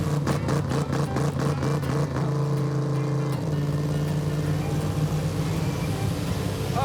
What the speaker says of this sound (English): The rev limiter. That's weird.